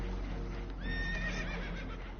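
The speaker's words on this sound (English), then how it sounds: "Horses are spooked" Spooked horses aboard a damaged boat whinny and neigh, a loud rising-and-falling cry near the middle over a constant low rumble, with faint hoof clatter mixed in.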